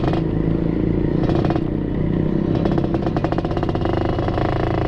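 Suzuki Satria 120R motorcycle fitted with an aftermarket exhaust, ridden at a relaxed pace, giving a steady, loud, throaty engine drone with rapid rattling pulses as the throttle shifts, heard close throughout.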